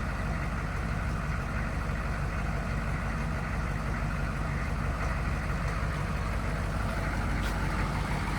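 A 1993 Chevrolet Silverado 3500 dually crew cab 4x4 diesel truck idles, heard from the exhaust side as an even, rumbling clatter that holds steady with no talk.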